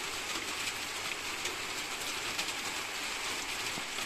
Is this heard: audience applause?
no